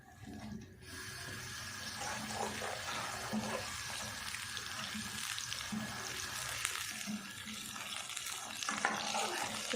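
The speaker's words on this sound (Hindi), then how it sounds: "इसको अब अच्छे से फ्राई करते हैं" Tomato paste for chicken karahi fries in a pan with a continuous soft sizzle and bubbling, broken by occasional scraping stirs, fairly close but quiet throughout.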